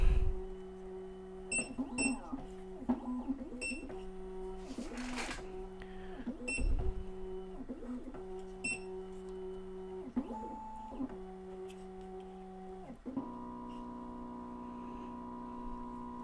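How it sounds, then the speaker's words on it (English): A Black Widow key cutting machine identifies a 2021+ Honda key clamped in its S1 clamp, sounding as a series of regular electronic beeps and motor whirs repeated in an even cycle, ending in a longer sustained tone, with faint mechanical clicks and quiet background. "what it's doing right now is actually identifying the key to make sure that you do actually have it on the A side"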